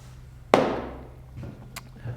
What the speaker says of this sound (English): we'll lubricate the cylinders with some WD-40 just to ease things along